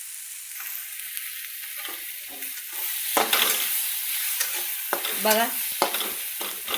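Dry moth beans stirred and roasted in a pan, a steady sizzling hiss with scraping spoon strokes that grow louder midway, and a brief voice speaking over the cooking near the end.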